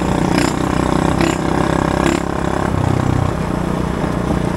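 A worn Loncin 110/125 cc motorcycle engine runs loud and close with a steady mid-pitched drone, a few brief revs rising over it, no voices.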